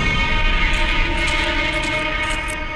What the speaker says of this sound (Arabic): اخذت تذكرة لجذب القطار.